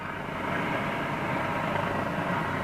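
Steady, loud rotor and engine roar of a helicopter, continuous throughout with no speech.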